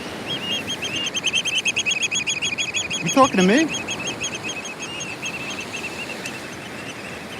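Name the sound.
birds calling at a beach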